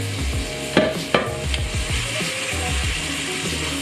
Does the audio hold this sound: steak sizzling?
yes